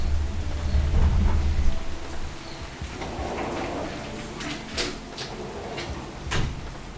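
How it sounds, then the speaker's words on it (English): Rain sets in outdoors with a low thunder-like rumble at first, then a steady hiss of falling rain with a few nearby knocks and thumps. "The rain started coming this way."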